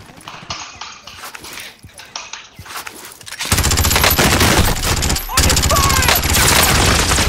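Gunfire in Call of Duty: Warzone, dense rapid automatic bursts that start suddenly and stay loud and continuous, following quieter scattered shots and a player talking.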